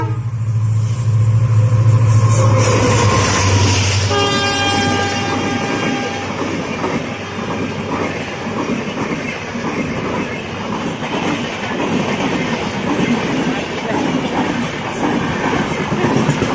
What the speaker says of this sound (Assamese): ট্ৰেইনখন আহি আছে।